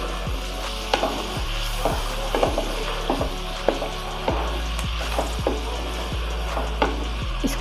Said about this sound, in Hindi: इसको भी ऐसे 1-2 मिनट के लिए फ्राई कर लेते हैं।